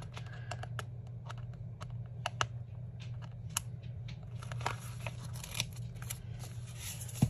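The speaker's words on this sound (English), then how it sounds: "I'm going to cut it so it fits in there" Small scissors snip a tiny paper quote for a planner, making a run of quiet, crisp clicks and snips at an uneven pace over a low steady hum.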